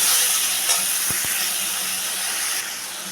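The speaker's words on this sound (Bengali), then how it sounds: "এখন আমি এটার মধ্যে টমেটো আলু আর কাঁচা লঙ্কা সব একসাথে দিয়ে আমি আরও খানিকক্ষণ এটাকে কষিয়ে নেব" Tomatoes, potatoes and green chillies sauté in spice paste for a fish curry, a close, steady sizzling hiss with a couple of brief utensil knocks partway through.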